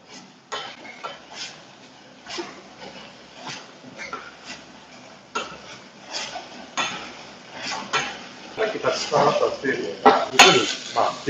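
Noodles and meat are stir-fried in a pan until the liquid cooks off, with irregular metallic clanks and scrapes of a utensil against the pan that grow busier and louder toward the end, heard beneath intermittent talking.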